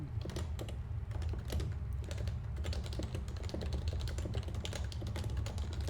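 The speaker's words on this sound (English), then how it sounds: "Oh, this is so much typing." Rapid clicking of fingers typing on a computer keyboard, dense irregular keystrokes continuing throughout, close and fairly loud with no talk.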